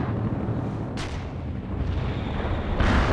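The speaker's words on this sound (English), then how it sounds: "Artillery ready, товарищ командир." An artillery barrage fires in the game World in Conflict, a sustained roar of distant booms and rumbling blasts, with sharper reports breaking through near the start and end.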